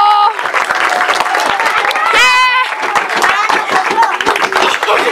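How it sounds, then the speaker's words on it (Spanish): Loud applause and cheering break out for children at a gathering, dense clapping mixed with shouts and whistles that carries on for several seconds, with voices heard through it. "el aplauso para los niños, fuerte"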